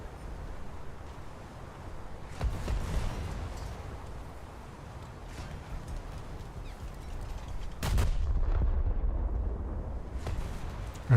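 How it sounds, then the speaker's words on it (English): A warship's naval guns fire salvos at a Tennessee-class battleship in a naval video game. Two deep, heavy booms several seconds apart roll out over a continuous low ocean and engine rumble. "another salvo against this Tennessee"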